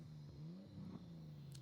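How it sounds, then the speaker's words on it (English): An electric car revving in the Forza Horizon 5 racing game gives a steady, fairly loud low electric whine that swells and dips slightly in pitch, with no voices over it. "I love the sound of revving because they're all electrics"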